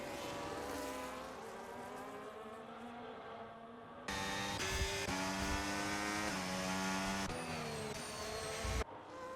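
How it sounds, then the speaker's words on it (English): F1 race cars in the F1 25 video game at the Bahrain circuit, engines droning loudly and continuously, with sharp pitch shifts and gear changes as several cars pass close by, no talk. "Soberface now is catching the back of the Sauber because he's on the hard compound tyres here in Bahrain."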